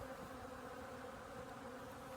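Honey bee buzzing steadily near a feeder bucket in a beekeeping setting, a continuous close insect drone with a constant pitch and no speech.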